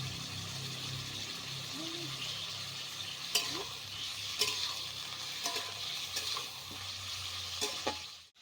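Chicken pieces frying in a pan for chicken curry, a continuous close sizzle punctuated by repeated sharp clicks of a spatula against the pan.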